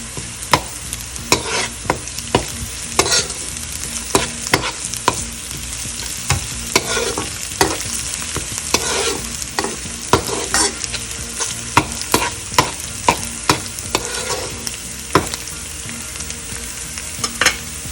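Chopped garlic and ginger fry in a pan for a Dhaba-style palak paneer, with a steady loud sizzle broken by frequent scraping stir strokes, no voices.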